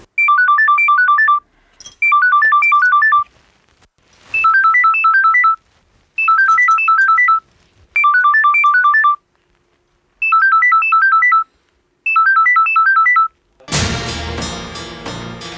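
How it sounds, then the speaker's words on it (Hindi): A phone ringtone plays a repeating electronic melody in seven evenly spaced bursts, loud and close, with short silences between them, before music swells in at the end. "ए समय रे किए फोन कले"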